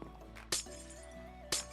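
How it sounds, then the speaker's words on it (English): Glass blocks breaking in Minecraft make two crisp, bright shattering clinks about a second apart over a quiet background. "Just love the sound of that breaking glass."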